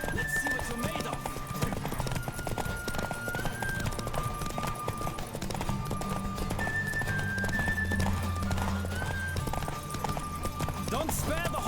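Hooves galloping in a horse race in the video game The Witcher 3, a rapid steady clip-clop running throughout under game music, with a neigh and voices shouting over it.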